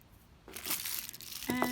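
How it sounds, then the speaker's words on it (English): Old scissors cut open the plastic packaging of a set of Wow Four Design measuring cups. A brief, close crinkle and rustle of plastic builds over under two seconds and ends in a short snip-like scrape. "I'm going to use my son's old scissors to open this"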